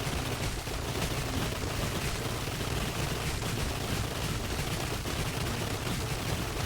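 Dense, continuous gunfire from the video game Rocket Rats, with a weapon upgraded for many shots per volley; a steady wall of rapid overlapping shots runs throughout, loud and unbroken, with no talk.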